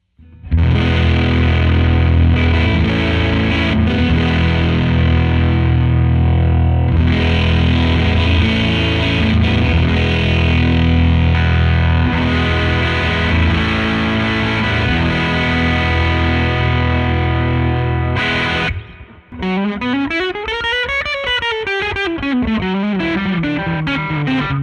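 Heavily distorted electric guitar playing sustained chords with thick effects, loud and dense, then after a brief drop switching to wavering, pitch-bending notes near the end.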